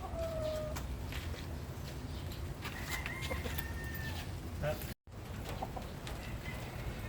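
Chickens cluck and a rooster crows faintly in a backyard coop setting, the bird calls scattered over low background noise with a short silent gap midway.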